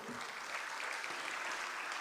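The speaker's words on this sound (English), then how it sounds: "Clap for him as well." Festival audience at the World Culture Festival 2024 at the Arts Council in Karachi applauds steadily, a dense even wash of clapping from a large crowd heard alone for a couple of seconds.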